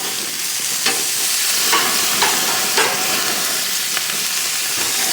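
Sausages and a chop sizzle on a brand new gas grill, a steady loud frying hiss with occasional sharper crackles and pops as fat flares up.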